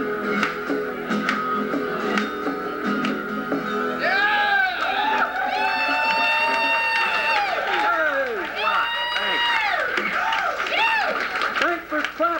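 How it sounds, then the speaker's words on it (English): An audience at a live rock show at the Middle East club claps steadily, with cheers and high whooping voices rising over the applause. "Thanks for clapping and cheering and going, woo!"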